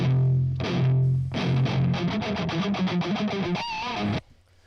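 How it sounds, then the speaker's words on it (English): Heavily distorted electric guitar through a 5150 amp on the red channel, thick high-gain tone, plays sustained chords, then tight chugging notes, ending on a bent squealing note. "that's the sound of the 5150 on the red channel"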